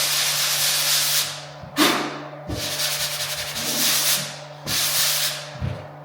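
Drywall joint compound on finished taping being hand-sanded in repeated broad, rasping strokes with short pauses between passes, close and steady with no talking.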